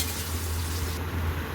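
Diced potatoes fry in deep oil with a little turmeric, a dense, steady sizzle that stays loud and unbroken throughout.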